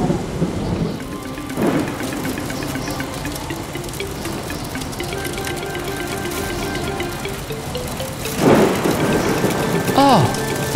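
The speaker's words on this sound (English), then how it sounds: "It looks like there's going to be a thunderstorm." Steady rain patters while thunder rumbles in a cartoon storm scene, with louder cracks near the start and close to the end; a few tonal whines sound over the storm.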